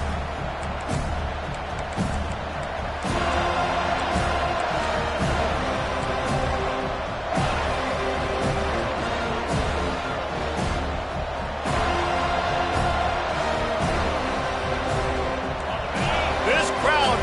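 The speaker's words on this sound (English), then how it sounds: "This crowd trying to show them what it's going to be like all day in this house." A college football stadium crowd at a Seminoles game keeps up a continuous broad roar that swells slightly now and then, with a commentator talking over it.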